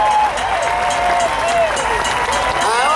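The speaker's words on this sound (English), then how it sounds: "would you please stand up, applaud the council" An inauguration crowd applauds the Los Angeles city council, a dense, sustained wash of clapping with voices and cheering layered over it.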